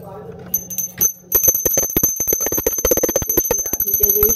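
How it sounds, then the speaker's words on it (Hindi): A small prayer bell rings rapidly and continuously during a Bhai Dooj puja at home, bright and close, after a brief voice and a couple of knocks at the start. "वो घंटी बजा दो"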